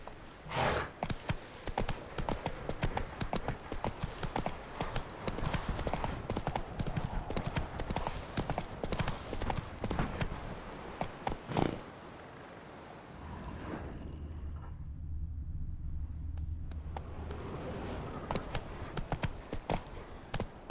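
The horse Roach from The Witcher 3 gallops with quick, rhythmic hoofbeats, loud and close for about twelve seconds, then the pounding gives way to a quieter, muffled low rumble.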